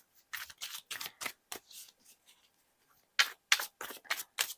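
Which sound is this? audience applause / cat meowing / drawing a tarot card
drawing a tarot card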